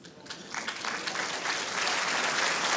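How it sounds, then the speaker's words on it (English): Crowd at an indoor bowls championship ladies singles final breaking into applause, starting as scattered claps and swelling into a steady, moderately distant round of clapping. "it's an encouraging clap"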